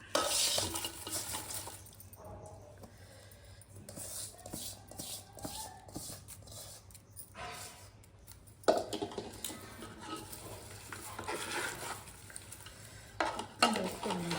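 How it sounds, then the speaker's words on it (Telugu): Chicken pieces frying in a pan for a chicken pickle, a continuous sizzle with repeated scraping and clattering stirs, moderately loud and close. "ఇప్పుడు అందులో చికెన్ ముక్కలు వేసేసుకుందాం"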